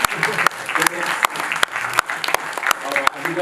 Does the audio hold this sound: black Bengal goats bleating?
no